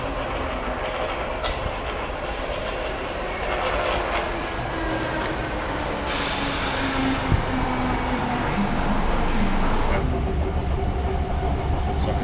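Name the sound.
train at a railway station, heading back to London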